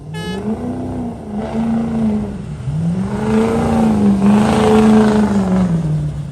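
A monster truck engine with a Cummins diesel revs hard while its wheels spin, making a loud, close roar that swells and dips in pitch over several seconds.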